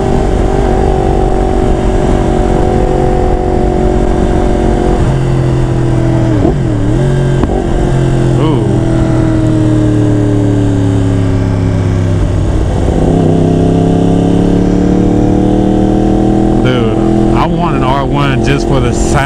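A Yamaha R1 motorcycle engine runs loud and close, holding steady tones and then dropping and climbing again as the revs shift, with someone talking over the engine noise.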